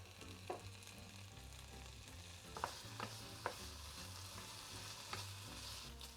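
Bacon and onions fry in a pan with a constant soft sizzle, broken by a few light scrapes and taps as they are stirred. Faint and continuous, with no voices.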